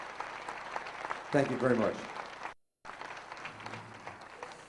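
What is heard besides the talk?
concert audience applause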